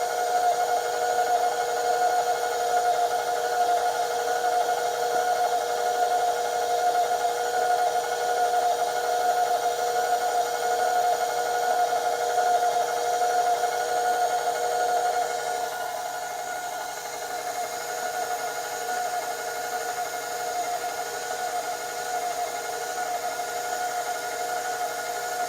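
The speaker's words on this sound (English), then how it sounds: "Now we're going to blend it. And get it all blended up in there pretty good." An electric mixer blending sweet potato pie filling, a steady high motor whine with a constant hum, running continuously, slightly dropping in pitch and level partway through, no talking.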